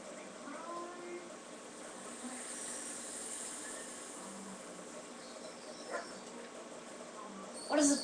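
A dog in the video game Fable 2 whimpers and yips softly over a steady chirping, insect-like ambient bed, with a louder burst right at the end.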